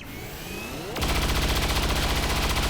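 A sustained burst of rifle fire rupturing an alien in XCOM 2 cuts in loudly after a second of quieter ambience and holds as a rapid, even stutter of shots until the end.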